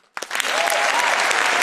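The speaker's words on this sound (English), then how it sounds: "please give them the round of applause that they deserve" An audience breaks into sudden, loud applause for a university Eco-Runner team invited on stage at a design presentation, sustained dense clapping following a brief quiet start.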